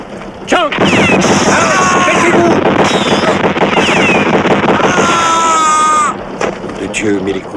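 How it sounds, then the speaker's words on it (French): Rapid bursts of gunfire from a boat crackle over chaotic action sounds in an action film, close and loud, with shouting voices mixed in throughout. "les coups de feu viennent du bateau"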